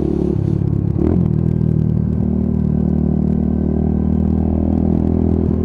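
A Lexmoto Tempest GT 125 motorcycle engine revving steadily while being ridden, with a loud, continuous buzzing drone and a brief rev blip near the start.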